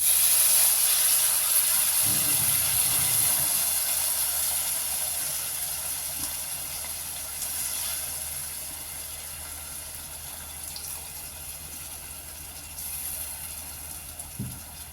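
Soaked tamarind water poured into a hot pan for kuzhambu bursts into a loud hissing sizzle that slowly fades over several seconds, with faint stirring clinks, close and without talk.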